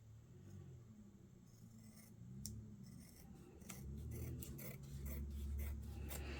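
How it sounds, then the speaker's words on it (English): Scissors snipping through a piece of craft material for an accordion-fold project, a series of short crisp cuts and rasping slides, fairly close and moderately loud, with no voices. "let's cut this piece here"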